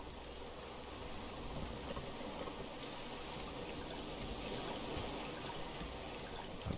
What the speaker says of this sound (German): Wobei die See gerade unruhig wird